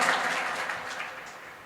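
Audience applause at a devotional bhajan evening in Bhajanpura: a thick wash of clapping that starts fairly strong and gradually thins and fades, with no talk over it.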